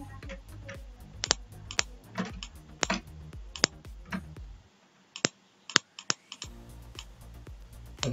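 Computer keyboard keys and mouse buttons clicked while working in Photoshop CC 2020, a run of sharp, close ticks at irregular intervals over a low background hum that drops away briefly before the clicks resume.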